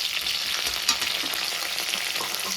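Cumin seeds, curry leaves and coriander leaves crackle in hot oil for Andhra pulao, a dense, even sizzle heard up close for a brief moment, with a faint stir or two.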